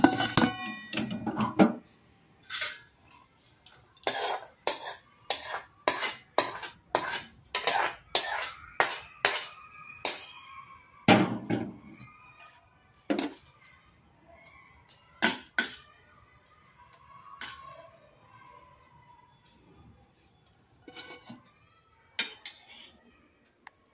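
Freshly cooked food is scooped out of a pan onto a plate, with a long run of sharp metal-on-metal clinks and scrapes of a spoon against dishes, dense at first and then sparser, close and fairly loud.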